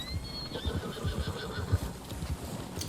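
Horse in the Red Dead Online video game neighs and whinnies amid clip-clopping hooves, steady and fairly close, with no talking.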